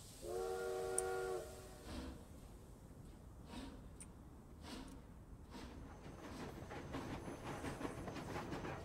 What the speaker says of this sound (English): Yeah, that's the horn.